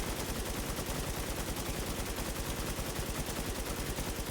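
Rapid, continuous automatic fire from a 50-caliber gun in a video game, a dense, loud stream of shots at a steady rhythm that runs unbroken from start to finish with no talk over it.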